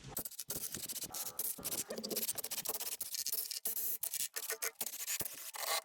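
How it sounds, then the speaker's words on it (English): Bolts being loosened and backed out of an aluminium valve cover on a BMW 130i N52 engine with a socket, giving close, busy scraping and clicking ratchet-like rubbing in irregular bursts with no talk. "let's go through and remove all them bolts now"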